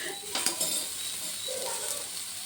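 Capsicum frying in a pan, a light steady sizzle with a couple of brief utensil clinks near the start, close and moderate in level, no speech.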